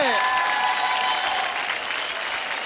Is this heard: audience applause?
yes